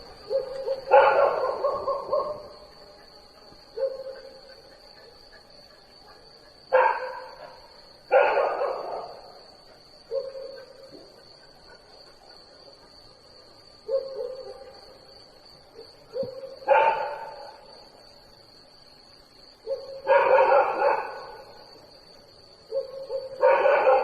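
Dogs bark outdoors in repeated bursts, several barks spaced every few seconds at a moderate distance over a steady high-pitched background tone.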